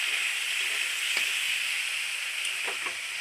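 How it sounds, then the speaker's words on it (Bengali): Chopped banana flower with green chilli sautéing in a pan, a steady close sizzle and hiss throughout with a few faint stirring taps. "এদিকে মোচাটাও কষানো হয়ে যায়।"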